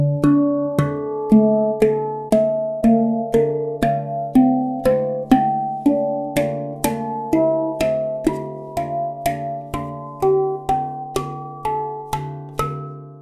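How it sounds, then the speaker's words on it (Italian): Handpan harmonic tones: a steady, even series of light strikes, each ringing out as a clear bell-like overtone above a sustained low drone, close and fairly loud, with no talking throughout. "Abbiamo poi i suoni armonici."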